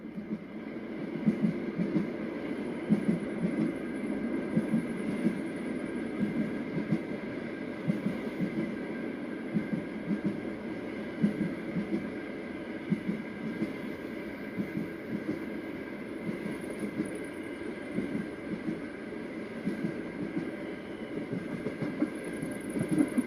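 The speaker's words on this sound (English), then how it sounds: "And you could just take a train ride," A train runs on rails with a steady rumbling roll and faint rhythmic clickety-clack, a continuous onboard drone with a soft high whine above it and no talking.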